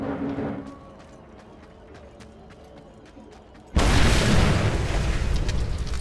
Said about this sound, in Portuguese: Pronto, já explodiu tudo.